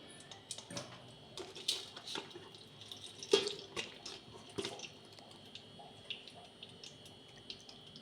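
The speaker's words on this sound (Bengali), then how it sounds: "আমি একটু ঠান্ডা জল দিয়ে ধুয়ে নিচ্ছি এটাকে" Freshly made chhena for rasmalai being rinsed under cold tap water, faint trickling and dripping with scattered splashes and small clinks, quiet and close throughout.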